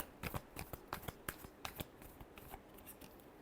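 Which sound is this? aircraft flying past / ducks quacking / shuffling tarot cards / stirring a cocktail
shuffling tarot cards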